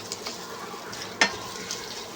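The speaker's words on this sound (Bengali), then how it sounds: "হালকা একটু জল দিয়ে মশলাটাকে একটু কষিয়ে নেব" Cumin paste, cumin powder and turmeric powder frying in a pan, a steady soft sizzle with faint stirring scrapes and one sharp clink near the middle.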